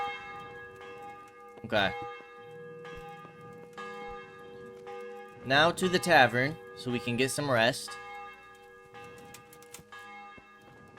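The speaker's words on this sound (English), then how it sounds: "The bell is ringing." A church bell tolls in a medieval village in the game Kingdom Come: Deliverance, with a few distinct rings ringing out amid ambient sound while someone talks over part of it.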